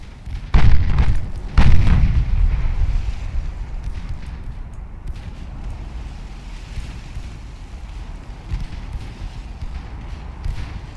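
Warship main guns firing in Ultimate Admiral Dreadnoughts: two heavy booming salvos land close together near the start, followed by a long rumbling decay and faint distant thumps over wind-like background noise.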